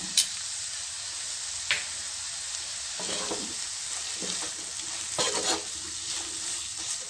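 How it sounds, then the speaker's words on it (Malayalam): Chopped onions sauté with salt in hot oil for Thalassery chicken dum biryani, giving a continuous close hiss of frying broken by occasional stirring scrapes. "ഉള്ളി ചെറുതായിട്ട് വഴന്ന് വന്നിട്ടുണ്ട്"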